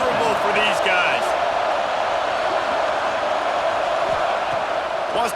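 Dense, continuous roar of a stadium crowd in a college football video game with an Auburn team, loud and steady throughout, with a commentator's voice speaking over it.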